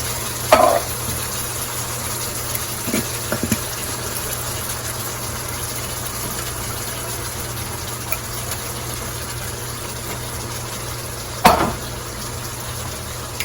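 Ravioli stirred in a pan over low heat gives a steady, gentle sizzle throughout, broken by a couple of brief clanks from the utensil near the start and toward the end.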